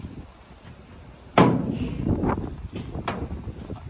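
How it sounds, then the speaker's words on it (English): One sharp, heavy metallic impact as a sledgehammer strikes a Chevrolet Silverado pickup truck outdoors, followed by softer knocks and rattles over wind noise. "Sling that sledgehammer."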